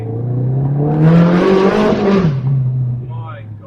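A Ferrari 360 Challenge Stradale engine revs hard in first gear, a loud, close roar that climbs to a peak and then falls away, with traffic noise in the background.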